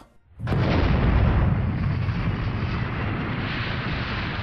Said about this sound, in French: une forte explosion réveille la campagne environnante